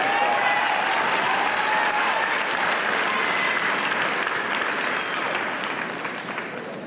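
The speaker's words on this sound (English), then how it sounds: "Let's give them a round of applause." A commencement audience breaks into sustained applause for Honors College members who have risen to their feet. The clapping is a dense, continuous wash from a large crowd that holds for about seven seconds and then tapers a little.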